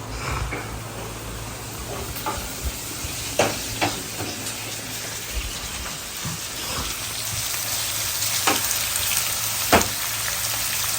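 Onions and tomato sautéing in a home kitchen pan, a steady crackling sizzle with scattered pops and spatters, close and continuous throughout.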